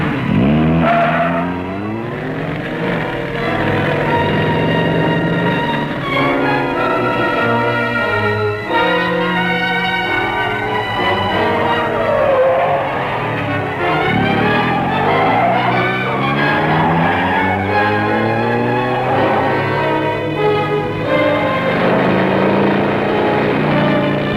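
A car speeds along a mountain road, its engine roaring steadily and its tires squealing and skidding through turns, loud and close for the whole stretch with no voices.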